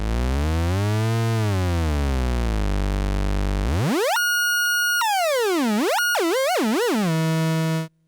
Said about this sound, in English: We can hear the full range of this oscillator now.